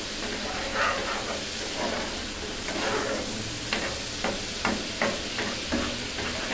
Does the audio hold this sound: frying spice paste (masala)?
yes